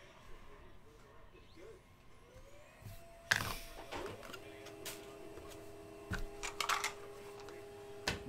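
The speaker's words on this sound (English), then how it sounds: "Let's print." A printer runs at a trading card break, with steady mechanical whirring tones and faint clicks starting partway through, moderately loud and close, over a quiet room background.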